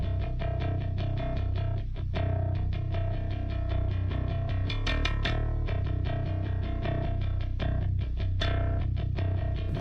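Dense, distorted music plays continuously through a British 8014 console emulator plugin with fat mode on, giving a heavy, thick boosted low end and a steady level throughout.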